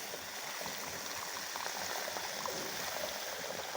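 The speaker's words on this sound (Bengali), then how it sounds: "জলটা দিয়ে দেবো এবার।" Water is poured into a cooking pan holding fish, a steady, moderately quiet rushing and bubbling sizzle that continues evenly throughout without talk.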